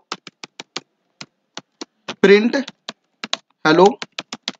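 Python code is typed on a computer keyboard as a string of crisp, close key clicks, spaced unevenly, with two short bursts of speech breaking in partway through.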